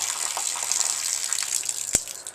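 Clear water gushing steadily from a motorcycle part that had held petrol, a continuous hissing pour with a single sharp knock near the end.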